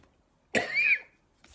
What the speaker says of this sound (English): There was a compulse to cough really sharp